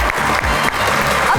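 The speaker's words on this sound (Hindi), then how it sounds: "आप सबकी तालियों में तशरीफ़ लाते हैं ज़ैन बलोच और कोमल जोइया।" A studio audience on a talk show claps briefly to welcome guests onto the stage, a short, dense burst of applause close by, with a voice speaking over it.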